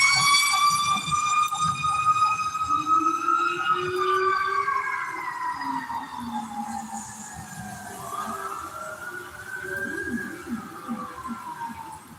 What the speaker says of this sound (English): you see the first one had his sirens on